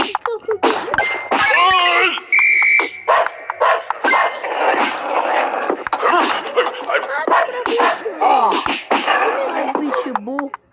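A voice imitates a dog barking in repeated yelps and bow-wows over Subway Surfers game sounds with dings and clangs, loud and close throughout.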